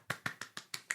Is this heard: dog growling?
no